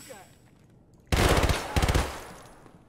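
Automatic gunfire from a new gun in the shooter Escape from Tarkov rips out in two short, loud, rapid bursts after a quiet moment, sharp and close.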